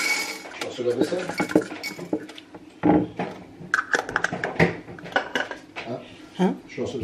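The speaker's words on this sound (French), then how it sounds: "Je lance la vaisselle." Dishes and cutlery clink and clatter repeatedly during washing up at home, close by, with people talking over the clattering.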